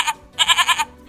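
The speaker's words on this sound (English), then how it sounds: "A kid is a baby goat. Let's press the kid." A baby goat bleat plays from a children's sound book: a short bleat, a pause, then a louder quavering bleat in rapid pulses, close and clear.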